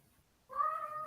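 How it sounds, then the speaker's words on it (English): A single short indoor house cat meow, faint but clear, rising after a moment of near silence in a quiet room. "I don't know if you can hear the cat. He's quite loud."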